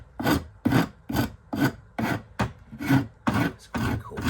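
A rasp rounds over the edge of a wooden loft ladder part on a workbench, nine or so evenly paced, close, coarse scraping strokes about half a second apart.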